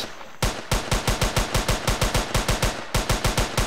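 Loud automatic gunfire from a video game built in Unreal Engine 4: rapid, evenly spaced shots in a sustained burst, a brief break, then more shots.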